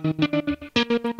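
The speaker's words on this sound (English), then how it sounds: "I've inserted the little bit of delay on the channel" Music channel from a cover mix with a tight slapback delay effect, a short run of sustained harmonic notes repeating in a steady pulse with quick doubled echoes, loud and with no talking.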